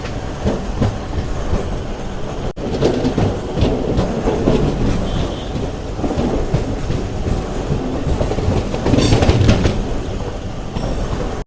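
MEMU passenger train on the Chittoor to Tirupati line running along the tracks, heard from inside as a loud, continuous rumble with rhythmic clickety-clack of wheels over rail joints.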